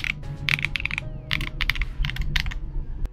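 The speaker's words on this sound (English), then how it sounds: "I'm actually really enjoying the sound profile that this keycap set, this keyboard, and the switches are delivering." Rapid typing on a keyboard fitted with Toffee Bunny PBT keycaps and Salmon tactile switches: crisp, clacky keystrokes in quick bursts, close up and clear, with no talking.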